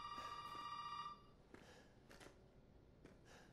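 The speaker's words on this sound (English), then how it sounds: "Phone's ringing." In Resident Evil 7, a telephone rings in a quiet house: one faint electronic ring tone sounds, then gives way to dim rattles and soft background noise.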